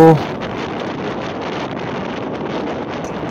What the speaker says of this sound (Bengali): এমন তেজ হাওয়া বইছে, আপনারা শব্দ শুনে বুঝতে পারছেন, খড় খড় খড় শব্দ।